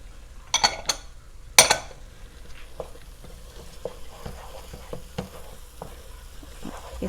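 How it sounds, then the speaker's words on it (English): A spoon stirs chicken pot pie filling in a pan, giving a soft scraping swish with a few sharp clinks of utensil on metal early on, then quieter scattered taps, close and without talk. "Get this all stirred up."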